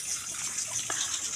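Water overflows and gushes steadily for a moment, a close, continuous pour with no voices.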